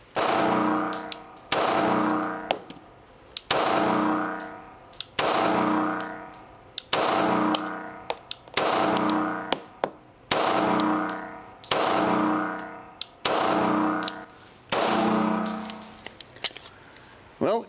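A Springfield Armory XD pistol fitted with Springer Precision parts fires a slow series of single shots, each a sharp loud crack followed by a ringing decay, roughly one shot every one to two seconds, close up.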